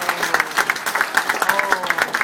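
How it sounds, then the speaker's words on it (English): Audience applause in a cinema during a horror movie screening event at Alamo Drafthouse: scattered, uneven clapping with distinct individual claps and some crowd murmur, moderately loud and fairly close. "Give Steve a round of applause."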